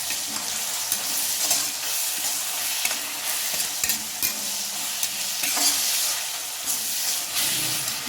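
Onions sautéing with ginger, green chili, crushed garlic and curry leaves for a chicken dish, a steady bright sizzle and hiss in the pan broken by repeated stirring scrapes, loud and close, with no voice.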